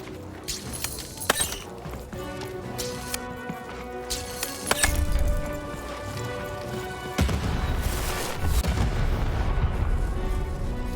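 Cannon fire in the video game Lost in Random: heavy booming blasts, one near the middle and another later, followed by rumbling impact, all over layered game music and effects.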